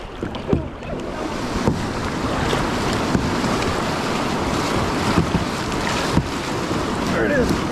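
A kayak pushes through whitewater rapids on the Coosa River. A steady loud roar of rushing water and wind covers the whole span, with occasional splashes and paddle strikes. A voice can be heard faintly now and then.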